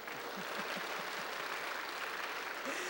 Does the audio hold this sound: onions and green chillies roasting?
no